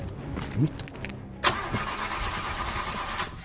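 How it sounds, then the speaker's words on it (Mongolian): A Mercedes-Benz car engine cranks and catches about midway through, then settles into a steady, close idle that continues to the end. "Бенз асаа."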